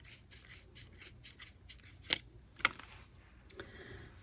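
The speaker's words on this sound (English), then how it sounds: "These aren't the best scissors for this, so you might want to have a nice, good pair of sharp scissors." Scissors snip through yarn during a crochet project, a series of soft rubbing cuts with two sharper, louder snaps in the middle, heard close with no talk.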